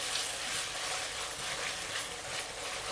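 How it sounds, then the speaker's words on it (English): Beef chuck pieces stir-fry in a pan over medium heat for a Chinese-style silky beef dish, giving a steady, soft sizzle with faint scraping. The sound stays even and fairly quiet throughout, with no talking. "Just fry them around until you don't see too much of a redness."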